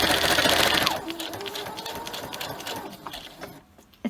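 A sewing machine straight-stitches through paper with a slight back stitch: a loud, rapid whirring run at the start, then quieter, slower stitching and a few soft clicks as it stops.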